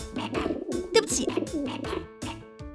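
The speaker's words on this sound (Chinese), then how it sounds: "过来，小鸟，这是你的午餐" A pigeon coos near the listener in soft, low, repeated calls at a steady rhythm, with no talk heard.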